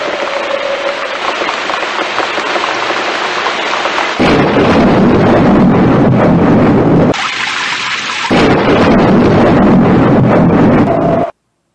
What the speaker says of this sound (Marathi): अन हळूहळू विजांचा गडगडाट वाढतच गेला आणि त्याचबरोबर गारांचा पाऊस चालू झाला।